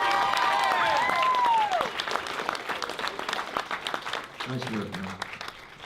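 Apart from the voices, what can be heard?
audience round of applause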